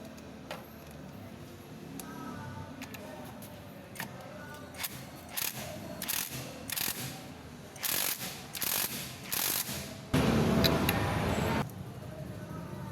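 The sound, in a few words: tightening a 19 mm nut on a Honda Supremo clutch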